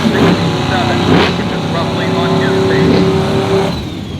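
Drag racing cars accelerate down the nearly 4,000-foot strip at Byron during a hot rod Drag Week event, a loud continuous engine roar with a rising whine, heard up close with crowd and announcer talk mixed in.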